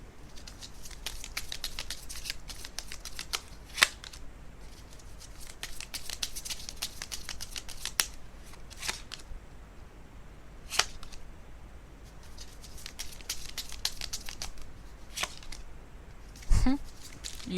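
Tarot cards are shuffled and drawn in close, crisp riffles and flicks that come in bursts with short pauses, with a louder slap near the end.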